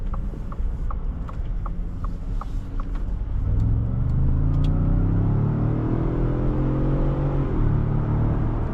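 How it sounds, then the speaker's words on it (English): A 2023 Ford F-150 Tremor pickup accelerates from inside the cab, its engine note rising steadily into a loud, continuous droning rumble that climbs in pitch before dropping briefly as it shifts, with no talk over it. "Very strong acceleration in this vehicle. It definitely picks up so quickly."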